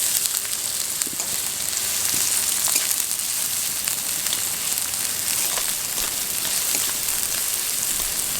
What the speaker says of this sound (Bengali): পেঁয়াজটাকে হালকা বাদামি করে ভেজে নেব।